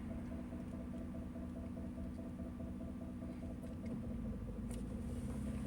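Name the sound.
car interior driving hum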